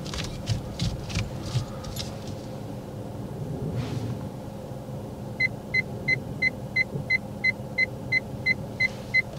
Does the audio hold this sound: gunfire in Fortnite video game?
no